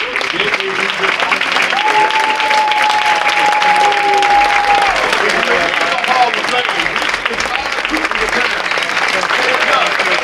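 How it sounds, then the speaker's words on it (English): An audience at a semi-pro baseball hall of fame induction ceremony applauds the inductees with sustained, dense clapping throughout, with faint voices and a brief tonal squeal mixed in. "give yourselves a big round of applause"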